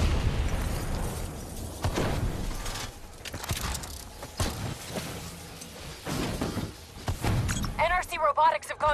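Explosions from detonating rogue robots in Call of Duty Black Ops 3: a string of heavy booms and bursts with clattering debris, loud and close, with a voice talking near the end.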